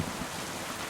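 Heavy rain in the video game Kingdom Come: Deliverance II, a brief burst of dense, hissing downpour at steady loudness.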